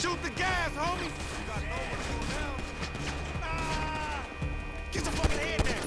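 Pistol gunfire in the GTA 5 video game, sharp shots mixed with game sound effects and music while a person talks over the action.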